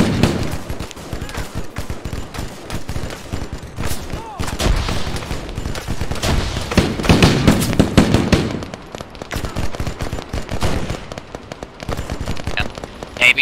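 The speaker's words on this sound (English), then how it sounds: "Throwing a grenade inside of that building." A frag grenade explodes inside a building in Arma 3, set among dense crackling gunfire and booms during a firefight.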